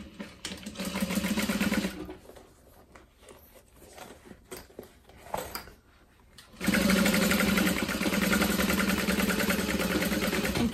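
Sewing machine stitching a seam on a Celine Zip Top Tote, running in a steady mechanical whir for a couple of seconds, pausing with faint handling noises, then running again loudly and continuously.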